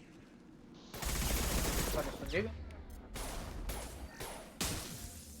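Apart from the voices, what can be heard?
rocket turrets firing in the video game Mass Effect 2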